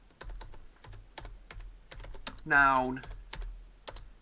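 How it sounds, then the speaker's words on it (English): Computer keyboard keys are tapped in quick, even strokes at close range, with a person talking briefly in the middle. "You can type a combination such as adjective,"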